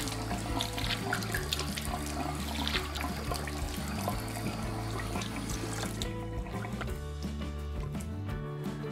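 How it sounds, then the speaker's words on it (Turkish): Water runs from a bathroom tap into the sink while a face is washed after shaving, a steady close rush with splashing and small sputters that continues throughout. "Son bir yüzümü yıkayayım."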